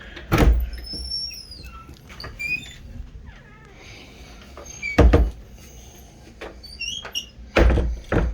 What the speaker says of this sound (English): the doors are sticking now because of the foundation, so we're gonna have to shave some of these doors down